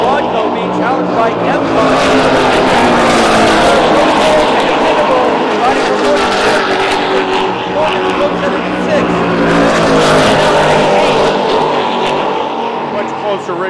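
Offshore racing powerboat engines roar continuously at a world championship race, a loud, dense, steady drone throughout, with commentators talking over it.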